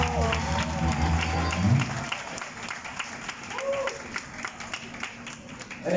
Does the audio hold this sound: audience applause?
yes